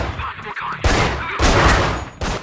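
Bursts of gunfire in the stealth video game Manhunt, an enemy shooting through a wall, with several loud volleys in quick succession separated by brief lulls.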